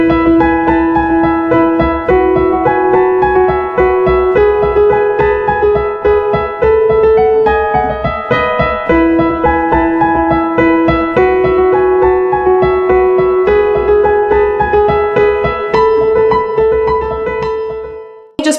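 Solo piano plays part of a worship song, with sustained chords and a repeating rhythmic left-hand pattern held at a steady, full level for nearly twenty seconds, unaccompanied by voice.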